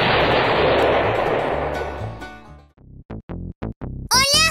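Cannons fire in the video game Garten of Banban as several sharp, loud booms pop in quick succession after a roaring blast fades out. A cartoonish voice cuts in at the end.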